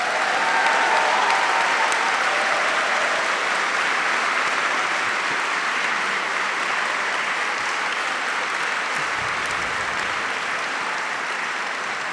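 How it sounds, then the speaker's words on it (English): An audience gives a final round of applause for panel guests at a talk event, dense sustained clapping that stays loud and even for the full length, with no voices over it. "can I please just have one final round of applause for our amazing guests"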